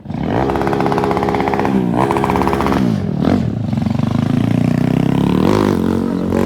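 A motorcycle engine revs hard and steadily, loud and close, as the rider holds a wheelie down a street, the pitch wavering and rising toward the end with no pauses.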